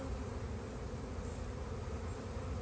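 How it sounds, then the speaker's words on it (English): A full spring hive of honey bees run as double deep boxes gives off a dense, steady buzzing that stays loud and unbroken the whole time, with no voices over it. "very, very full of bees, this hive."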